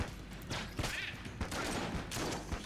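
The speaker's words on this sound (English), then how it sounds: "So many shotguns." Rapid shotgun blasts in the video game Enter the Gungeon, several sharp bursts in quick succession over a busy background of game effects, fairly quiet overall.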